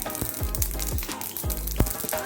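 Oil with mustard seeds for tempering crackles in a small pan: a close, continuous sizzle with sharp, repeated popping bursts throughout.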